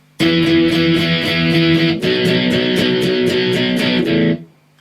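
Distorted electric guitar plays the rhythm part of a song, strumming two chord shapes in steady driving strokes, loud and close with no voice, then cutting off and ringing out briefly.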